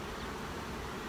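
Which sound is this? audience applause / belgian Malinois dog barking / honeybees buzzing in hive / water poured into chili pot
honeybees buzzing in hive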